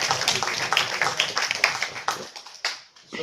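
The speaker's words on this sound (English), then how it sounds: "give her a big round of applause" A small group at a placement training workshop gives a short round of applause, with a few quick, close claps fading into sparse taps before ending.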